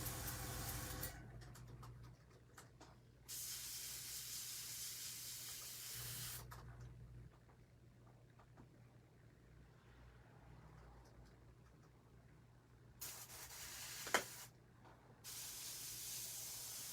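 An airbrush sprays paint onto a custom Halloween mask from Italy in several separate hissing bursts of a few seconds each, broken by quieter pauses and a sharp tap, with no talking.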